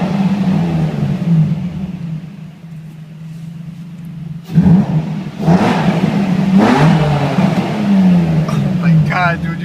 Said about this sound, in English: Rev it up one more time.